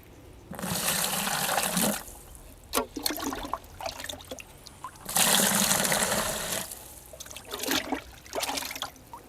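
Water poured from a container onto wood ash in a vessel to make a calcium, potassium and magnesium garden fertilizer, several splashing pours in bursts separated by short pauses with dripping and trickling between.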